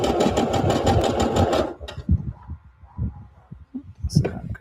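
A sewing machine runs a gather stitch with no back stitching, its needle hammering in a fast, even rhythm for under two seconds before stopping, then a person talks over quiet handling noises.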